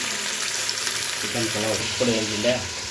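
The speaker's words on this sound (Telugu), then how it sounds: "ఆనియన్ బాగా గోల్డ్ కలర్ వచ్చేదాకా వేయించుకున్నానండి" Onions frying in a pan until golden for chicken biryani, a steady close sizzle with stirring scrapes and faint voice-like tones mixed in over the last half.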